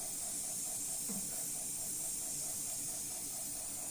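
Mustard oil in a hot karahi, a steady, fairly quiet hiss with a faint pulsing hum underneath, continuous with no talk.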